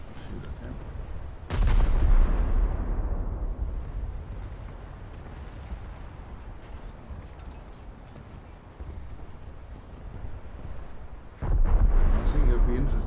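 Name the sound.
naval gunfire from a video game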